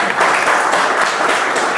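Students applauding a classmate after an exam result is read out in a classroom, a dense burst of steady clapping from a group, close and loud, with no talk over it.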